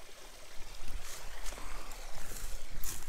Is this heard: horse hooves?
no